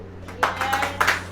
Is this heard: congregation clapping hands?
yes